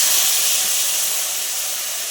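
Mustard paste, poppy seed paste, green chili paste and tomato sizzle loudly in hot oil for a bhola fish curry. The hiss is close, bright and continuous, easing slightly toward the end.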